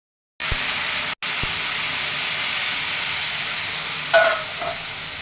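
Water hits a hot pan of bhuna khichuri, bursting into a loud, continuous steam hiss that cuts out briefly, resumes, then flares with a short extra sizzle near the end.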